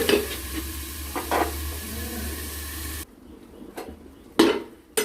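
Small fish with potato, pointed gourd and green banana stirred in a pan, a sizzling hiss with scraping stirs that drops away midway, leaving a few sharp utensil knocks against the pan.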